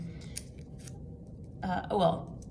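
Scissors cutting felt pieces from a sewing pattern for a felt elf craft, a few short snips and rustles close by, quiet and alone without talk.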